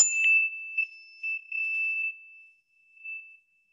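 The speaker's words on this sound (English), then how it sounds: "I'm going to ding this little mindfulness bell." A small mindfulness bell struck once during a yoga session, giving a clear, bright ring that sustains and slowly fades, with a slight wavering pulse, heard alone in quiet.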